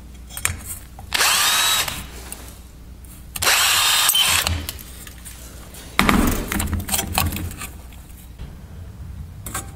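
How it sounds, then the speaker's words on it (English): Pneumatic rivet gun setting rivets in a headlight bucket on an AMC Javelin SST, fired in three loud bursts of roughly a second each, separated by quieter workshop handling noise. "See how good the Chinese rivet gun works today."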